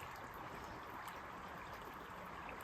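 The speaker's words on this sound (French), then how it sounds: "Puis je suis allée voir la rivière." Steady broadband rush of a river flowing near a countryside house site, continuous and even throughout with no voices.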